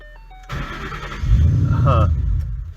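A Ford 4.6L/5.0L V8 cranks and fires on a car raised on jack stands, with a sudden loud catch settling into a steady, rumbling idle.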